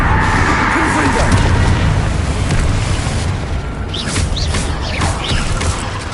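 Confringo fire-blast spell in Hogwarts Legacy, a loud, sustained booming roar of explosion and crackling debris filling the whole stretch, close and dense, with faint higher chirps near the end.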